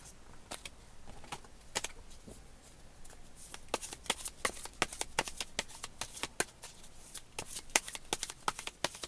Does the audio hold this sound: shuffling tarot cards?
yes